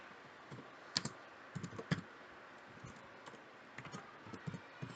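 Quick, irregular clicks of a computer keyboard as code is typed, bursts of several keystrokes separated by short pauses, close and fairly quiet with no talking.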